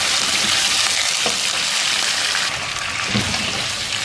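Chicken korma frying over medium heat while being stirred, a loud, dense, continuous sizzle with occasional spoon scrapes and no voices.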